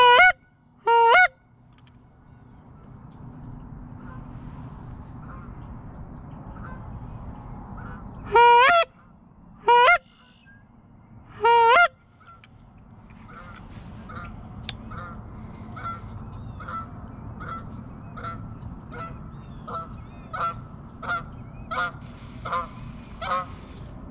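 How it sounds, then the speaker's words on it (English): Geese honk in a swamp during an early morning waterfowl hunt, with loud close bursts of honking early on, then a steady run of fainter calls from farther off over a low background rumble. "see if we can get a couple more groups of geese to fly through"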